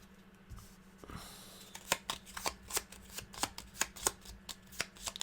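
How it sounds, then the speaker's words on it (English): A deck of cards for the Gloomhaven: Jaws of the Lion board game is shuffled at a tabletop, with a soft rustle followed by a run of sharp, evenly spaced riffling snaps, close and clear, with no voices. "We're going to shuffle their deck and draw a card for each of them."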